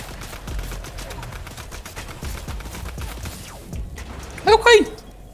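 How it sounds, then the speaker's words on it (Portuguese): Rapid gunshots in a video game ring out from a shooter firing down from a high position, a fast run of sharp cracks with louder bursts near the end, mixed with excited talk from players. "Como é que ele tá atirando lá de cima"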